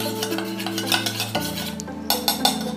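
Curd being mixed in a vessel, with a spoon clinking and scraping against the metal sides in close, moderately loud strokes, no voices.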